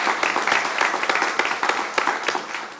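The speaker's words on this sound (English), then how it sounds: "I think we deserve one more round of applause" Audience applause for the community at the Imagine Kalamazoo 2035 kick-off presentation, a dense round of many hands clapping close and steady, with brighter bursts standing out through the roughly three seconds.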